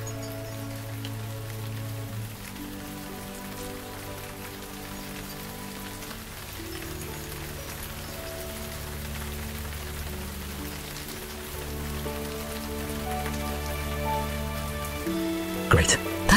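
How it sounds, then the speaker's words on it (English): Rain falls steadily on a spring night in a rice-farming village, a soft constant patter under sustained, gentle musical tones. "It's raining! It actually is raining!"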